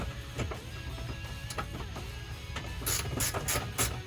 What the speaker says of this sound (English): we're gonna go ahead, unbolt the seat